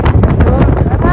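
Wind buffets the microphone outdoors in Nagoya, Japan, a loud gusty rumble filling the short moment in broad bursts.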